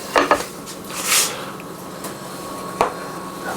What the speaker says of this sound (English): Let me get a little plate here